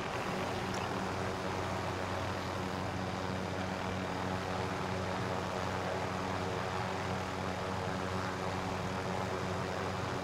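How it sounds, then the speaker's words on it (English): A constant droning engine roar with a steady rotor-like hum of a helicopter in Call of Duty: Modern Warfare fills the whole stretch, unbroken and moderately loud, with no talking. "Jump in the helicopter,"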